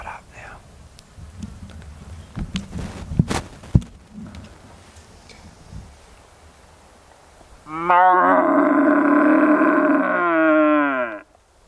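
A red stag roars once in a long, loud, deep bellow that rises and wavers for several seconds, coming after a quiet stretch of outdoor rustling and faint low whispering nearby.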